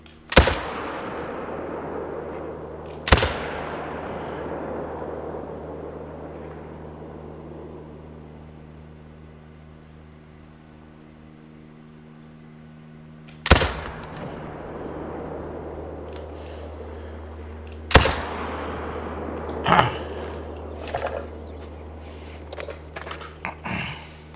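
Rifle shots at whitetail deer in theHunter: Call of the Wild on Mississippi Acres: four sharp, loud reports spaced several seconds apart, each ringing into a long decaying echo over a quiet outdoor hum, with faint clicks near the end.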